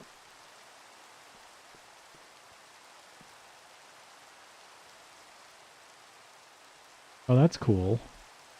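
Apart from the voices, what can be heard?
rain falling in a video game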